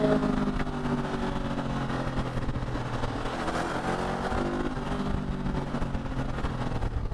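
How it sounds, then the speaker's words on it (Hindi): A 2025 Honda NX500 500 cc motorcycle riding in 4th gear through the city, engine droning steadily with wind rush from the rider's position, no talk. "4th गियर पे है, तो इसको ट्राई करते हैं कि कितना पिकअप करेगा गाड़ी"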